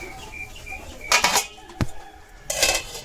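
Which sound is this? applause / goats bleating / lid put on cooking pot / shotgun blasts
lid put on cooking pot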